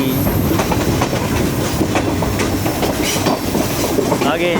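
The Pak Business Express thunders past with a loud, steady engine roar and a continuous clatter of wheels on rails, with high metallic track screeches cutting through close up.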